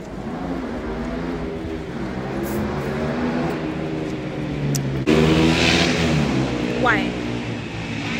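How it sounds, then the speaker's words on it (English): A car engine revs and accelerates nearby, a rising, harmonic engine drone that grows louder and swells again near the end, with some talking underneath. "So they came here and accelerated their engine."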